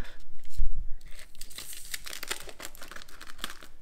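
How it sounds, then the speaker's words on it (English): Scissors cut open a paper yeast packet at close range, with a brief crinkle of packaging followed by a quick burst of snipping and tearing sounds. "I gotta cut it open. My new yeast packet here."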